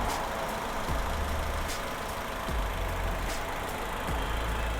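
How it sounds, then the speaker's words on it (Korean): A Chevrolet (GM Daewoo) Spark LT engine idling steadily with a low, even rumble and faint periodic pulses, heard close from the engine bay with no talking. "엔진 소리 일정합니다"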